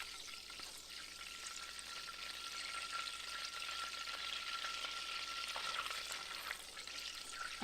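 Butter browning in a pan sizzles with a steady, dense crackle that stays fairly even from start to finish, with no one talking.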